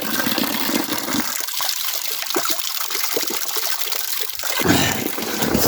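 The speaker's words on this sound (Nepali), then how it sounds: "यो चाहिँ पात्लेको धारा हो" Spring water pours steadily from a stone spout in a Nepali village, a close, continuous splashing trickle that stays loud throughout with no one speaking.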